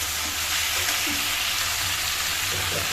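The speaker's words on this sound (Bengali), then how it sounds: "এটা হালকা করে ভাজা ভাজা হয়ে যায়" Vegetables, including potato, fry in a pan with a constant loud hiss and crackle, close and alone, with faint stirring.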